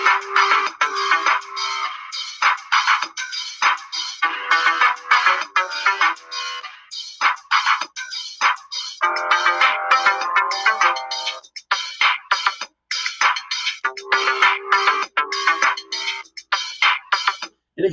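Guitar and bass guitar play a simple 1-5-4-1 chord progression, strummed chords ringing in steady bursts with short gaps between changes, bright and fairly loud with no voices over it.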